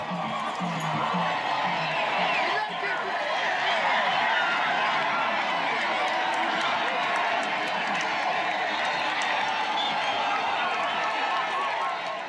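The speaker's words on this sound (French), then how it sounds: "Le peuple acclame son roi en fanfare." A Lozi crowd acclaiming their king with fanfare after a giant royal canoe crossing, a dense continuous wall of cheering, clapping and shouting voices sustained at steady volume.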